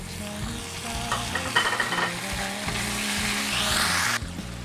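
Chicken tikka masala for biryani frying and being stirred in a pan, a steady close sizzle with scraping of a spoon throughout, no voices.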